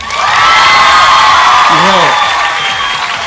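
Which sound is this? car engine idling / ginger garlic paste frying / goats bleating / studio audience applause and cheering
studio audience applause and cheering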